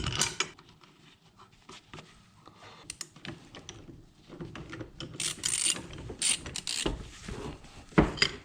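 Wrenching on a Mazda FC RX-7 while unbolting parts: rapid ratchet clicks, metallic clanks and tool handling, close and fairly quiet, in irregular bursts with brief pauses.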